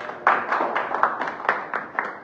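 An audience at a CPI(M) gathering claps for a singer, giving a brisk run of fairly close hand claps at a steady, slightly uneven rhythm with no voices over it.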